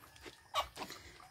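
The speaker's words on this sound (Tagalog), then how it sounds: "Bagong aso namin." A newly adopted pet dog lets out a couple of short, close yelps or whimpers over a quiet background, with a brief pause between them.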